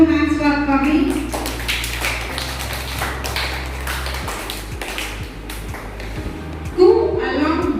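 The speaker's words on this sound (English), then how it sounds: "Clap your hands for Kavi." An audience at a general knowledge quiz program claps steadily in a crisp, continuous patter, with a voice speaking briefly at the start and end over a low background hum.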